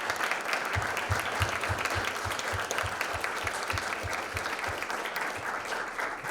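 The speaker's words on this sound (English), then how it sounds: "give it a round of applause for all of these individuals" Steady applause from a crowd at a mayor's town hall meeting, with many hands clapping continuously at a moderate volume from start to finish.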